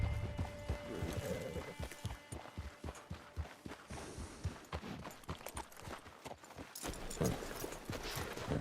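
Horse hooves clip-clopping in Red Dead Online, a steady rhythm of close hoofbeats at a walking pace over faint ambient game noise.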